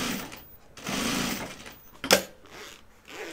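A sewing machine runs in short bursts while stitching fabric on a serger-style setup, its buzzing motor fairly close and steady, with a brief sharp click partway through and no talk.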